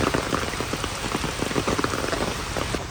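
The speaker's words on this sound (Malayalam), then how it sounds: "എങ്ങനെയുണ്ട് ക്യാമ്പസിലെ മഴ?" Steady rain pours across a college campus, a dense continuous patter with scattered nearby drip impacts, moderately loud and unbroken, with no voices.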